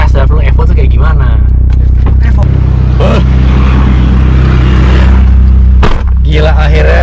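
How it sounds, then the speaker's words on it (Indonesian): A Mitsubishi Lancer Evolution 7 convert on a test drive, its engine droning loud and steady from inside the cabin, with people talking over it throughout. "Nah sekarang kita tes drive dulu Evo tuh kayak gimana"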